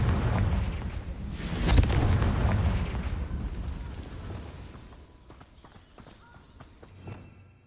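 A single loud fire spell explosion in the video game Hogwarts Legacy bursts early, then rumbles and fades into quieter game ambience, with a faint thump near the end.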